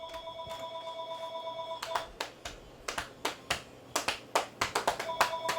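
A telephone bell rings in two bursts, at the start and again at the end, while sharp claps or taps punctuate the middle.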